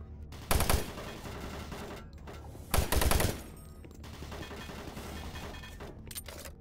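Automated turret guns in Doom 3 firing in two loud, close bursts of rapid gunfire, separated by a stretch of lower rumbling noise.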